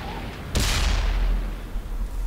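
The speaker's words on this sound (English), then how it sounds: "Why aren't your rounds working, Mole? It happened again. I hit him straight in the side." A tank cannon fires in World of Tanks, one sudden loud boom followed by a long rumbling decay that stays heavy in the low end.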